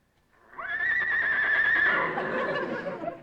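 A horse neighs in one long, loud whinny that starts high and bright, wavers, then sinks into a rougher, breathy tail, close and clear with no voices.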